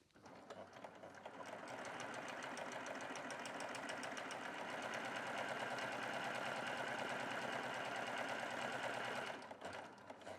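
A Baby Lock sewing machine runs the final seam of a handbag, its close, steady motor hum and rapid needle chatter ramping up and holding for about nine seconds before stopping.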